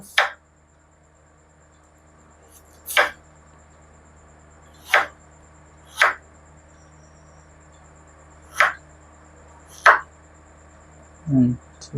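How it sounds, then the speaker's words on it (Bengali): Knife chopping a potato into small cubes on a board in a quiet kitchen, sharp isolated cuts landing one at a time with gaps of about a second or more between them, and a faint low thud near the end. "আলুটা কিউব সাইজে কাটিং করে নেব, চৌকো সাইজে"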